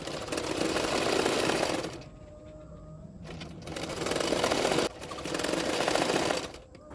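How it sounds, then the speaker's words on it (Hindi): A sewing machine stitches along the edge of the belt piece for a 32-size double katori blouse, running in three steady, fairly loud bursts with brief pauses between them. "और बेल्ट के ऊपर किनारे पे एक सिलाई डाल दूंगी, किनारे किनारे पे।"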